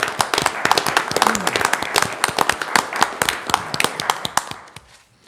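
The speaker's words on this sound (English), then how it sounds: "their work definitely deserves a little round of applause for what they did for us" A small group at a town council meeting gives a short round of applause, distinct sharp claps close by that build, then taper off and stop near the end.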